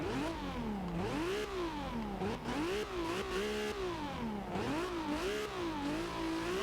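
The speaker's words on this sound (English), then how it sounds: "I don't think I've ever actually been able to hear a Supra idle before in this game." A 1995 Toyota Supra RZ in Forza Horizon 2 idles loudly and steadily, its engine note rising and falling in repeated gentle swells with a continuous rumbling drone.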